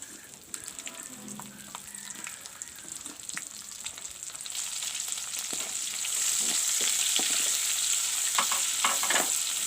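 Onions frying in oil in a karai, a steady sizzle that grows louder and brighter partway through, with occasional stirring scrapes and clinks close by.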